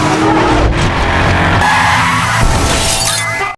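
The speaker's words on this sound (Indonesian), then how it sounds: "muncul Buddy menggunakan mobil polisi dan langsung menabrak Doc" Police car from a film speeding and skidding, with loud, continuous tire squeal and engine roar, crashing and shattering impacts mixed in, close and intense throughout before cutting off abruptly.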